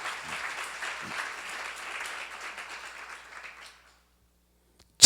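Audience applause at a church seminar lecture fills the room steadily, then dies away over the last second into near silence.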